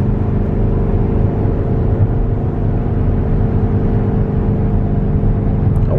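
A Lamborghini Urus engine drones as it accelerates, heard from inside the cabin during a ride along, a steady low rumble and whir with no talk.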